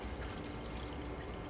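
Water pours into a graduated beaker in a continuous, close, steady rush with no talk over it.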